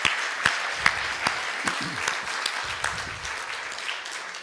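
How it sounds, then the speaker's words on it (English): A conference audience gives a speaker a round of applause, moderately loud clapping with a few sharper claps standing out and a voice faintly underneath. "let's give him a little round of applause"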